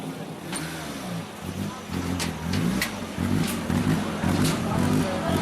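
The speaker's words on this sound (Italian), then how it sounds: "Paolo Garzia affiancato da Mauro Longo, Peugeot 106 Rally N2, scuderia la Salento Motori, 106 Rally N2 della Casarano Rally Team." A Peugeot 106 Rally N2 rally car engine revs and idles at a rally event in Piazza Mazzini, Lecce, rising in pitch in several pushes, loud and close with crowd noise around it.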